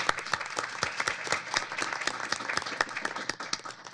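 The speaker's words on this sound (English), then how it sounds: "I think he deserves a round of applause." A symposium audience applauding steadily, dense overlapping claps with a few sharper slaps standing out, sustained throughout without any voices.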